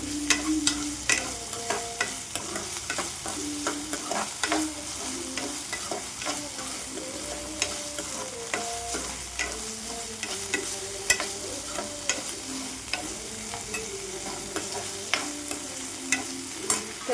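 Chopped potato and unripe green tomato sautéing in a pan with cumin and mustard seeds, a continuous soft sizzle under repeated scraping and clinking of a spoon stirring through the pieces, no voices.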